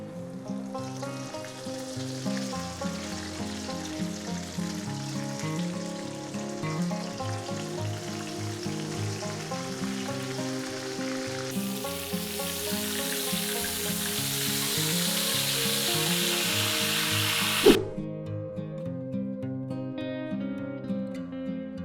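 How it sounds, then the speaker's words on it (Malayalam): Fried ice cream sizzles in hot oil, a steady bright crackle running the whole time beneath background music, growing louder and harsher partway through before cutting back to the music alone near the end. "നമ്മുടെ ഓയിൽ ചൂടായിട്ടുണ്ട് ഐസ്ക്രീം നമുക്ക് ഫ്രൈ ചെയ്തെടുക്കാം"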